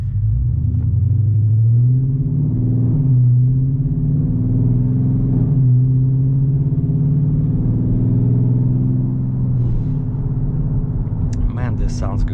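A car's modified 5.7-liter engine rumbles steadily with deep low tones, holding a near, loud idle with slight swells; a person talks over it throughout.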